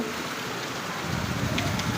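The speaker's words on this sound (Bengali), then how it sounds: "আমাদের ফরিদপুর জেলার ঈশান গোপালপুর ইউনিয়ন অনেক বৃষ্টি হচ্ছে" Heavy monsoon rain pours down steadily in a rural village, a dense, loud, unbroken roar of rainfall on surfaces with no voices.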